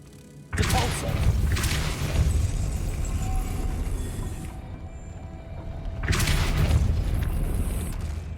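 In Hogwarts Legacy, a Depulso spell goes off with a sudden heavy boom and crashing rumble that lingers, then a second blast follows a few seconds later, loud and close.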